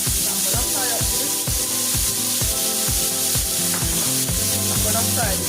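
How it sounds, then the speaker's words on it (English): Onion, sweet pepper, thyme and tomato frying in a pan, a loud continuous close sizzle with rhythmic stirring knocks throughout, no one speaking. "So I'm gonna fry up this."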